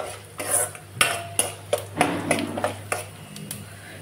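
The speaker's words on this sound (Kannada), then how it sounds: "ಧನಿಯಾ, ಜೀರಿಗೆ ಹಾಕ್ಕೊಂಡು ಚೆನ್ನಾಗಿ ಫ್ರೈ ಮಾಡ್ಕೊಳ್ಳಿ." A utensil scrapes and clinks steadily in a pan as coriander and cumin are stirred while they fry. The strokes are close and repeat about every half second over a low steady hum.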